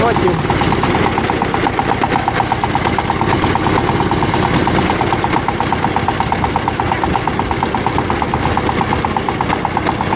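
A Shifeng 160 Turbo Intercooler tractor engine labours steadily while ploughing with a Virax 2-25 plough, a loud continuous drone with rapid rhythmic knocking that runs close and unbroken throughout.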